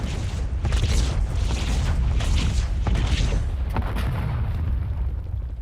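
Airstrike explosions in Call of Duty Black Ops 7 battle royale, a sustained loud low booming rumble with repeated blasts rolling over several seconds, no voices.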